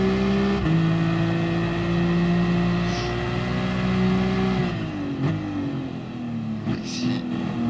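A Nissan GT-R engine in Gran Turismo Sport drones steadily at high revs, pitch sagging as it lifts off around five seconds and then climbs again, loud and continuous with no one talking.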